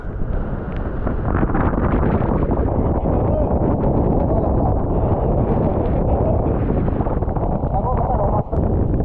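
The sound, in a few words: sea wave coming in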